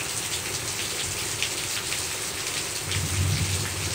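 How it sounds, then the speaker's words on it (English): Heavy rain pours continuously from the tail end of a hurricane, and a low rumble of thunder builds near the end under the dense hiss of falling water. "I'm not sure if you can hear that thunder."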